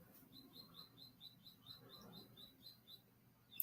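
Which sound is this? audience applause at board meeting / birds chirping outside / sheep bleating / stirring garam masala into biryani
birds chirping outside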